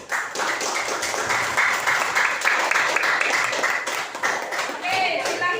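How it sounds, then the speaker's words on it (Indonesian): A classroom gives steady, dense applause for classmates who have just presented. The clapping runs loud and unbroken for several seconds, with only a brief dip near the end. "Kita beri aplaus untuk teman kalian yang sudah maju ke depan"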